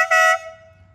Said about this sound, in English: I add this full air horn right here